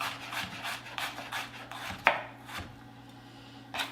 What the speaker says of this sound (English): So I'm just going to thinly slice this.